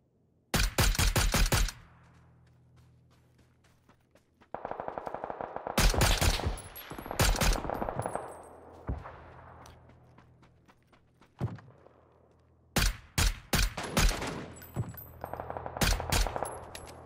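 Bursts of gunfire from a PUBG match, loud rapid volleys separated by quieter stretches, with a few single shots and faint footsteps between the clusters.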